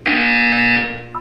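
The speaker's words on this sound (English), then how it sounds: "You will hear a buzzer." A loud electronic buzzer from the video game Portal 2 sounds once, a steady harmonic tone held for about three quarters of a second before fading, with a brief chirp at the end.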